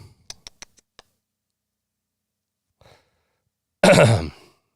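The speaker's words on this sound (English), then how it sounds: "I just coughed into the mic." A single close, loud cough lands right into a microphone, a short harsh burst after a few faint clicks and near silence.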